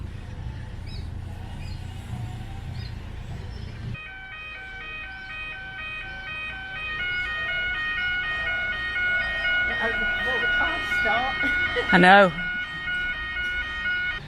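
Police car siren wailing by a canal lock, starting after a few seconds and holding steady tones at moderate distance, with a brief loud burst near the end; a short spoken reply is heard.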